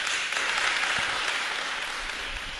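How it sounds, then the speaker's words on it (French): An audience applauds a speaker, steady dense clapping from many hands filling the room throughout, fairly loud and continuous. "Monsieur Michel, est-ce qu'on peut applaudir Monsieur Michel?"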